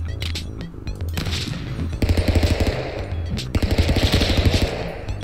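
Rapid bursts of gunfire in the stick-figure fighting video game Stick Fight: The Game, loud staccato volleys in two clusters with short pauses between, sharp and close.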